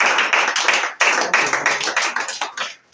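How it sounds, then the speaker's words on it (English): Audience applause at a breast cancer awareness campaign event, a dense burst of clapping from a crowd that pauses briefly, swells again, then fades out at the end. "I would like you to give an applause for this great association"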